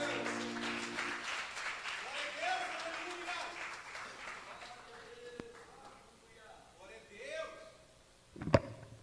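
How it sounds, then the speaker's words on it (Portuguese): Sparse, light applause from a church congregation during worship, patchy and thin, mixed with music and a voice. "Vamos aplaudir o nome de Jesus."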